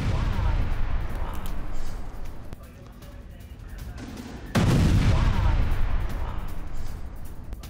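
News footage of an explosion and gunfire in Tel Aviv: a loud, rumbling blast environment with sharp report-like bursts, easing quieter in the middle, then a sudden heavy boom that swells and slowly fades.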